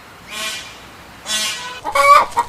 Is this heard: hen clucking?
yes